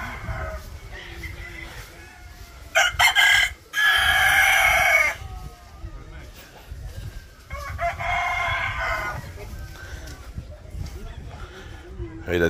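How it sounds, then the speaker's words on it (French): Fighting roosters in Port Barton, Philippines, crow in two loud, close bursts with clucking between them, while a person talks over the outdoor scene. "c'est des coqs pour le combat"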